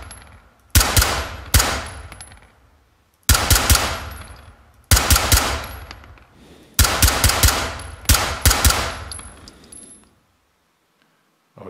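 Rapid bursts of automatic gunfire in the tactical shooter Ready or Not, several loud close volleys separated by short pauses, ending in silence.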